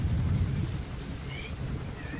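Storm in Metal Gear Solid V with thunder and rain, heard as a low rumbling roll that fades from strong to softer over a constant wash of falling rain, no voices present.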